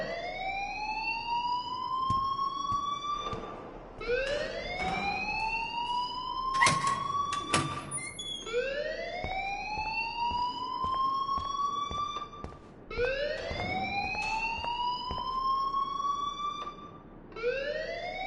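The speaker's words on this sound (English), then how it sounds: "please turn off that alarm since that's your job" A school fire alarm in the game Life is Strange wails in repeated rising sweeps, each lasting a few seconds, cycling steadily and loudly with sharp clicks and bangs mixed in.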